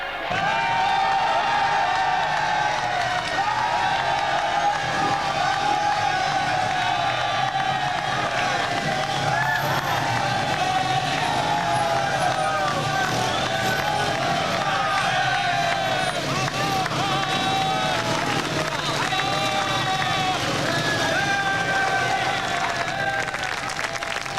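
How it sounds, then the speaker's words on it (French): A large crowd packed inside and outside a factory cheers and applauds as the marshal's car arrives, a sustained roar of whoops, clapping and babble with voices shouting throughout. "Une acclamation enthousiaste monte de la foule, massée à l'intérieur et à l'extérieur de l'usine."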